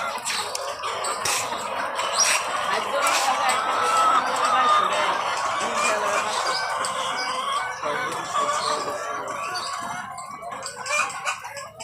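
Layer hens on a large poultry farm cluck and squawk in a busy, continuous chorus while a rooster crows among them, with people talking underneath.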